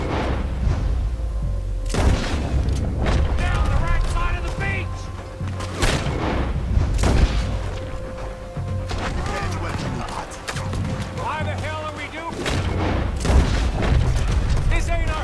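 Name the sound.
cannon fire booms in the video game Red Dead Redemption 2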